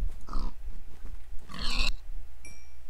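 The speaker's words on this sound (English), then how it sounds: "Ooh, pig." Pig grunts in the Minecraft video game, two short bursts of snorting oinks at close range with a quiet gap between them and a faint chime near the end.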